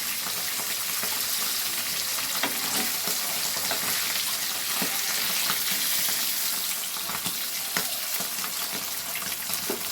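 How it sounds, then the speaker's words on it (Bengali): Small fesha fish fry lightly in oil in a pan and are turned over, producing a dense, even sizzle that holds steady and close throughout, with occasional soft utensil clicks. "দেখো এগুলো একটু উল্টে দিলাম, এগুলো খুব কড়া ভাজা কিন্তু করে না।"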